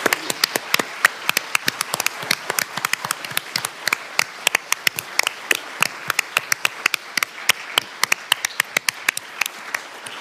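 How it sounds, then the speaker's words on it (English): An audience at a Senate hearing on type 1 diabetes research gives a dense, crisp round of applause for the young delegates' parents. Many hands clap close and loud, steadily for about ten seconds. "join me in giving a huge round of applause to your parents who work day and night"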